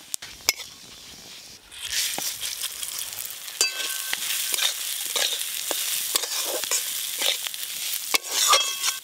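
Whole cumin, dried red chilies and a bay leaf dropped into hot mustard oil for moong dal, bursting into a close, steady sizzle with crackles and scattered metal spoon clinks, after a few quiet taps at the start.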